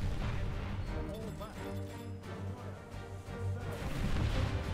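Incoming naval shellfire lands around HMS Abdiel in the War Thunder naval game: a series of dull booms and splashing crashes over a steady ship-engine drone, with someone talking over it.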